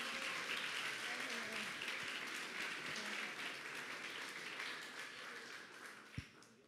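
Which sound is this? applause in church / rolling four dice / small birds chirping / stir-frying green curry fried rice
applause in church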